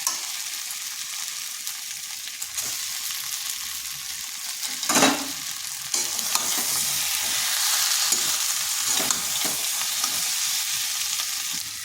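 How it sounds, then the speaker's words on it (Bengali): Eggs sizzle and fry in spice masala for a Bengali cauliflower and egg dish while being stirred, with a steady broadband frying hiss and a few louder scraping stirs throughout, no talking. "ডিমগুলো দিয়ে বেশ কিছুক্ষণ কষে নিয়েছি।"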